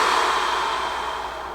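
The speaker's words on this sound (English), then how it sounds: "take a breath in to prepare, breathe out" A long, breathy exhale during a Pilates bird dog exercise, a steady airy hiss heard close up that fades slightly toward its end.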